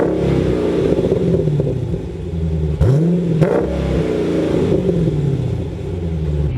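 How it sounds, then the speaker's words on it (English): A Dodge Charger Scat Pack with a stock exhaust, nearly 500 horsepower, rumbles at idle and then blips into two quick sharp revs in the middle, heard up close and loud with no talking. "the exhaust on this is bone stock"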